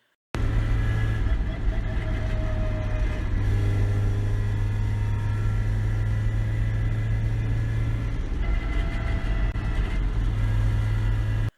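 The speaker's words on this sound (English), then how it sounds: "we're having a little bit of some issues with grinding, and it's grinding / whining." A Mazda Miata with a suspected transmission or differential fault produces a steady, loud low rumble of engine and drivetrain noise throughout, with faint whining tones layered above.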